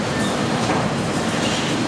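A steady, loud mechanical rumble and hiss runs continuously, an SMT solder paste stencil printer operating with no talking over it.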